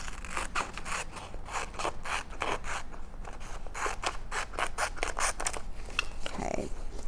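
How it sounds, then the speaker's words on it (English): Scissors snip steadily through fabric for an elephant stuffed animal pattern, a close run of repeated crisp cuts with a faint scrape at the end. "I'm gonna cut along this line."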